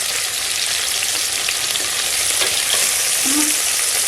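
Green chillies sauté in hot oil in a pan for coconut milk rice, giving a steady, close sizzle with a faint clink of stirring near the end.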